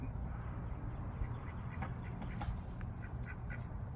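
Faint quacking from ducks comes through a steady low rumble of background noise, a few short calls scattered across the clip.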